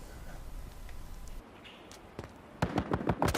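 Burst-fire gunshots in the Battlefield Hardline multiplayer game: a short cluster of sharp rapid cracks near the end, following a noisy rumbling background.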